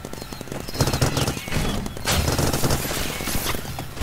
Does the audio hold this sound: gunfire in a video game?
yes